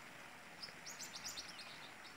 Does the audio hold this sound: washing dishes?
no